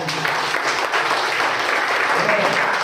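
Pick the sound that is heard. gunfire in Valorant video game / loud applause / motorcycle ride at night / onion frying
loud applause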